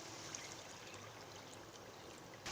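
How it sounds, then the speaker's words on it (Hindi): Water poured into a pot of green masala for hara masala chicken pulao, a steady close trickle and gurgle that runs continuously for a couple of seconds. "से मैं इसमें 2 गिलास पानी ऐड कर रही हूँ।"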